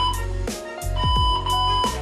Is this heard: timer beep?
yes